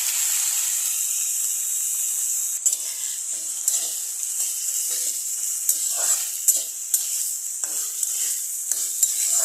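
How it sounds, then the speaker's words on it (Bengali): Banana flower and diced potatoes frying in hot oil for a Bengali mocha ghonto with dal bora, a steady bright sizzle close up, broken by repeated scraping stirs of a spatula against the pan. "আলুটা কিছুক্ষণ ফ্রাই হয়েছে, এখন এখানে মোচাগুলো ছেড়ে দেবো"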